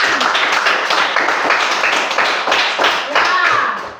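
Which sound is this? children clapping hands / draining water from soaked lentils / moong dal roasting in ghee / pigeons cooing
children clapping hands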